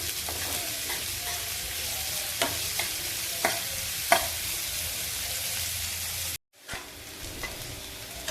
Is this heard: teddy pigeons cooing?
no